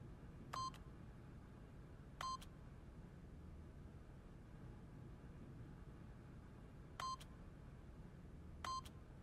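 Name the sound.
keypad PIN code being entered in The Stanley Parable video game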